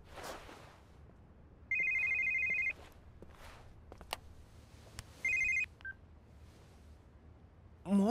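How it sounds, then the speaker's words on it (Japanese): Phone ringing in the video game Yakuza 5, two short electronic ring bursts separated by a quiet stretch of faint clicks and footsteps, with a louder tone at the very end. "さあボスからの電話かな。"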